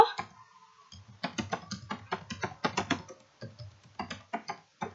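A password is typed on a computer keyboard in a quick run of crisp clicking keystrokes, close and clear, with a short pause before the typing begins.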